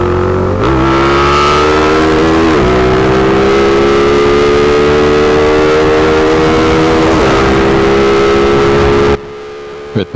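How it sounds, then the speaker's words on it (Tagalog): A Honda Raider motorcycle runs loud and near for about nine seconds, its engine note droning steadily with a few sudden sputtering hiccups, then cutting out abruptly. "dito pinapakiramdaman ko yung takbo ng motor, pumuputok-putok yung andar mga boss"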